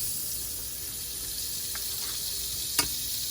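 Dairy-free butter sizzling in a hot pan while pancakes are being made, a steady bright hiss throughout with a faint tap near the end and no voices.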